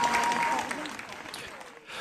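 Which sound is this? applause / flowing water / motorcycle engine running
applause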